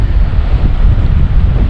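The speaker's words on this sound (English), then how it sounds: "it is incredibly windy today" Strong wind at a state park campsite in Wisconsin, a loud, continuous roaring buffet against the microphone with deep rumbling gusts and no pauses.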